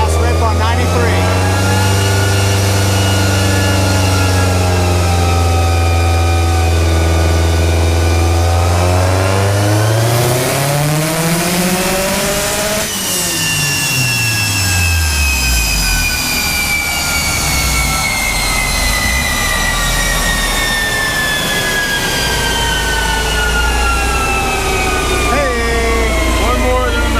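A Subaru WRX/STI turbo engine with the stock turbo, running on 93 octane, is pulled hard on a dyno. It is loud and sustained, climbing steadily in pitch to a peak, then dropping sharply and winding down to a steady roar.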